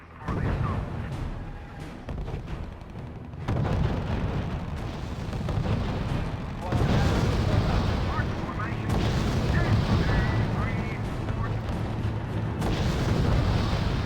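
Artillery barrages and gunfire rumble from the real-time strategy war game R.U.S.E., a continuous dense layer of booms and shots that swells louder partway through, with a voice talking over the battle.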